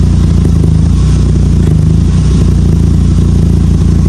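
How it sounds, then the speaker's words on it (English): Mk5 Volkswagen Jetta 2.5L engine idling with a misfire, a steady loud low rumble broken by uneven stutters and clattery hiccups throughout, close up with no talking. "Those stutters right there, that's my cylinders misfiring."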